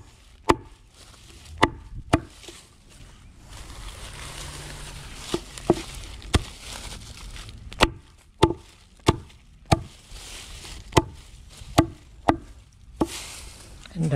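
Plant material is chopped on a chopping block for garden mulch in an urban Southwest Florida garden: sharp, irregular blade strikes land one or two seconds apart, close and distinct, with quiet rustling between them.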